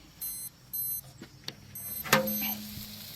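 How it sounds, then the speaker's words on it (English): A remote meat thermometer alarm beeps in short repeating bursts at a barbecue pit, then a sharp clack and a sustained tone follow, fairly close and with no talking. "my remote thermometer is going off"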